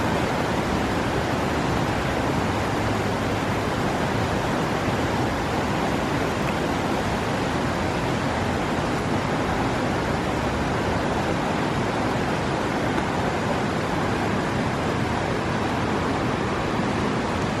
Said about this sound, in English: look at how much water is rushing through here from all that snow melting and all this rain we've been having.